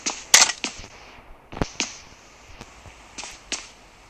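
Shotgun blasts in PUBG Mobile Lite, about eight sharp, cracking shots spaced irregularly with faint background noise between them.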